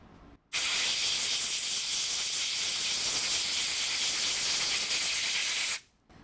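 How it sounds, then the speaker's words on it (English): An air blower sprays compressed air in a workshop, a loud steady hiss that starts abruptly, holds for about five seconds, then cuts off. "hand me that air blower right there"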